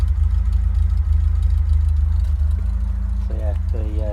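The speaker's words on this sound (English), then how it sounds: "Ticks over really nice." An Opel Manta 1.8S idles steadily after a cold start, its low, even exhaust note running throughout at close range, with a brief higher tone near the end.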